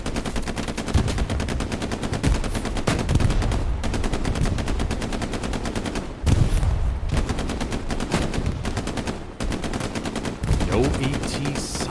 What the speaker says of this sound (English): Artillery strikes falling down to the south.